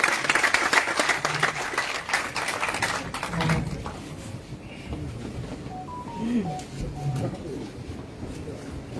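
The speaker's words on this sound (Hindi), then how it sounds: "जोरदार तालियों के" Applause rises for a speaker at a BJP political event as prominent social figures join the party, a dense burst of clapping that fades out while background voices carry on.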